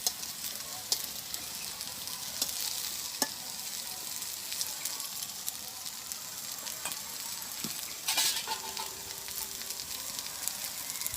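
Taro slices (kochu bhaji) fry in a pan in a village kitchen, giving a steady soft sizzle with a few scattered clicks and scrapes, close by and with no voices.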